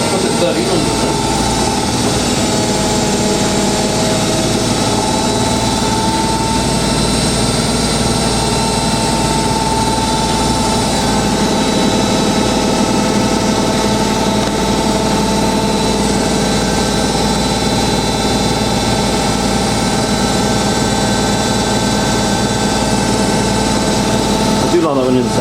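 Indesit IWC6125 washing machine on a cotton 90ºC wash with extra rinse, a steady mechanical hum and whir with drum motor noise running continuously throughout, loud and close, with faint talk underneath.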